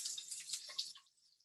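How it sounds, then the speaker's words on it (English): A faint, hissing sizzle of tortilla chips and onion frying in hot oil crackles for about a second, then drops away to near silence. "you can hear that it's how it's frying"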